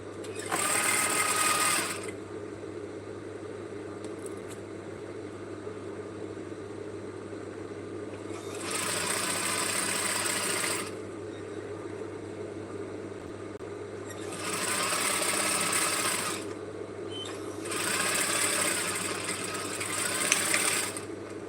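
A sewing machine top stitches an A-line dress in three or four bursts of steady whirring, each lasting a couple of seconds and separated by quieter pauses over a constant low hum.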